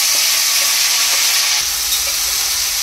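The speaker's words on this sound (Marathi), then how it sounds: "ही जी चिरून आणि धुवून ठेवलेली जी फरसबी आहे ती फोडणीला टाकायची आहे" Chopped French beans frying in a garlic tempering give a steady, close sizzle with a bright hiss and occasional stirring scrapes, with no one talking.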